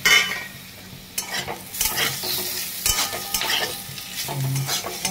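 Spatula scraping and stirring through food frying in a pan after coriander powder and pepper powder are added, with a steady sizzle underneath, repeated scrapes and clinks close to the mic.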